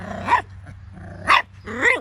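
A Schnoodle puppy lets out three close, sharp yappy barks mixed with low growls, with short pauses between them.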